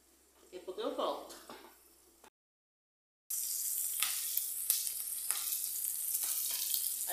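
Bacon fries in a pan with a loud, dense, steady sizzle and crackle close by, following a short stretch of muffled handling and a moment of silence; a person talks at the start.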